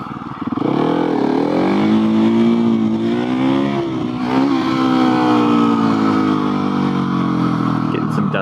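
A Husqvarna 701 single-cylinder motorcycle engine pulls at low speed on a dusty road, its loud, close drone rising and wavering in pitch as the throttle opens and the bike picks up speed.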